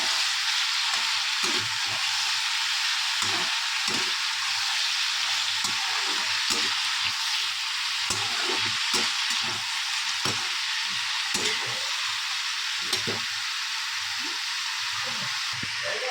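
Cauliflower and potato curry frying in a pan, a continuous bright hiss of sizzling oil with irregular soft knocks and scrapes from stirring throughout, moderately loud and close, no speech.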